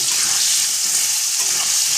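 Potato pieces dusted with turmeric fry in oil that was used earlier for frying fish, a loud, even, continuous sizzle that stays close throughout.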